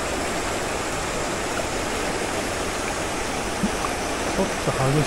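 A fast-flowing river current on the Doshi River in Japan, a loud, dense, continuous rush of water close by, with a few brief faint sounds near the end.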